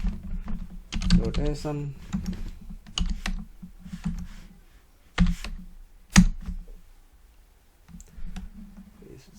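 Fingers typing on a computer keyboard while writing an x86-64 assembly program, a close, irregular run of clicking keystrokes with pauses, mixed with someone speaking.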